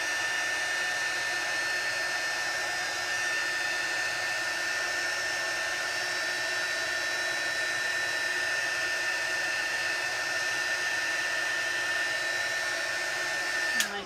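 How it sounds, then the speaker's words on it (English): A heat gun blows steadily over stamped embossing powder on a paper craft piece, a constant close whooshing hum with a faint high whine that runs unbroken for the whole stretch and ends with a click. "So again, I'm just going in with my heat gun."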